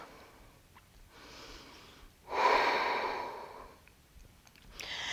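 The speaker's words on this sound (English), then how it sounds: "Breathing here." Slow, deep breaths during a vinyasa yoga flow, a soft inhale followed by a long, louder exhale, then another breath starting, close and alone.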